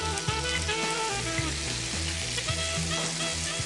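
Tomato pieces added to a pan and frying, a loud steady sizzle with rhythmic spatula taps and scrapes throughout.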